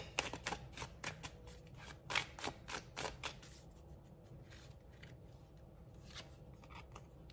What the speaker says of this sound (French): Allez, on va prendre 3 cartes.